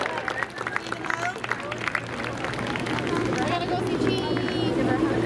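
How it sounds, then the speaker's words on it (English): A speedway crowd applauds the race winner in victory lane after a late model feature, the clapping and cheering mixed with crowd babble and people talking nearby, while engine or track noise hums beneath. "How about a round of applause?"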